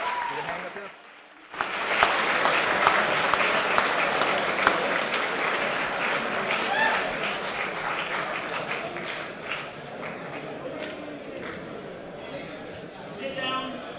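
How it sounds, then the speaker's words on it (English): Audience at a university talk breaks into loud sustained applause after a brief quiet moment, dense clapping from a large crowd continuing for many seconds, with some voices mixed in. "Give Dave Rubin a huge round of applause."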